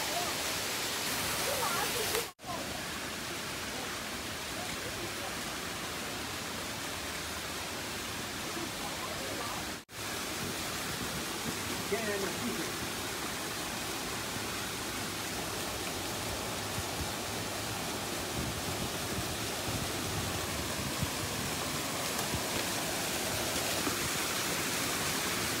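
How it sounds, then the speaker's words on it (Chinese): A mountain waterfall at Ximatang, on a hiking trail in the Kunming area, roars as a steady broadband wash of falling water that stays loud and close throughout, with two brief dropouts near the start. "这里还有个瀑布。"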